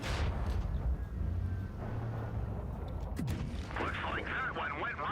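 Tank gun firing in World of Tanks Blitz, a deep booming shot among rumbling engine and battle noise, with game sound effects and a person talking over it.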